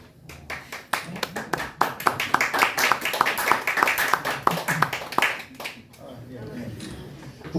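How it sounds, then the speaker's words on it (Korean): An audience at a business trip report meeting on Mongolia claps in a dense burst of many hands that builds, holds strong for several seconds, then thins out as it fades. "국가를 사랑하고 애국하시는 분들이 박수 치는 거예요"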